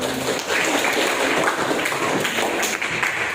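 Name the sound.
applause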